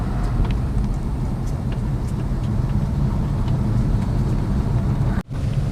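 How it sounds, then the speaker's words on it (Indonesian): A lowered, modified Daihatsu Ayla hatchback on a test drive, its steady engine and road rumble heard from inside the cabin, continuous and fairly loud, with a brief dropout near the end. "sekarang kita udah jalan sama mobil tadi, mobil Ayla tadi"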